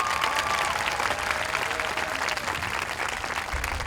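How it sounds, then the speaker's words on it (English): Graduating high school seniors at a 2019 ceremony for a visual and performing arts school clap steadily for themselves, a dense, sustained wash of applause filling the room throughout. "Give yourselves a round of applause"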